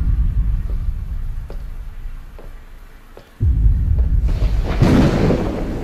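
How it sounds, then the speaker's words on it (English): Rolling thunder in the Slender Mansion horror game: a low, heavy rumble swells abruptly midway and stays loud to the end, over quieter dull thuds beforehand. "Thunder and lightning."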